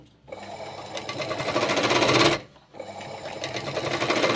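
Sewing machine stitching a waistband onto a blouse, running in two steady bursts with a brief pause between, loud and close with no talking.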